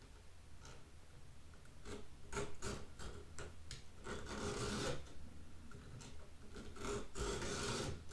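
Pole saw chain being sharpened with a Codirom 2-in-1 chainsaw sharpener, giving repeated rasping file strokes in short bursts, close and fairly quiet, with no talking.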